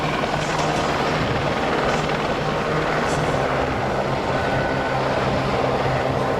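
A helicopter's rotor chop and engine roar fill the air steadily at the Australian International Air Show 2009, loud and continuous from start to finish.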